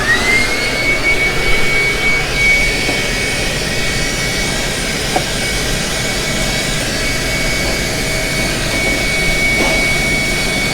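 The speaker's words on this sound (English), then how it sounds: "Now we're going to work on vacuuming this bottom area here." A vacuum cleaner with a brush attachment runs continuously and loudly while cleaning the lower area of a conveyor dryer, producing a steady whirring roar with a faint high whine.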